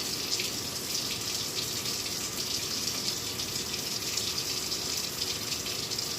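Tap water runs steadily into a sink during handwashing, a constant hissing gush at close range with no speech, unchanging throughout.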